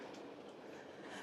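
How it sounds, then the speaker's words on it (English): Train at a station platform, heard faintly as a brief low rumble of rolling carriages with a soft rattling texture, steady and distant over the short moment. "Here are the trains."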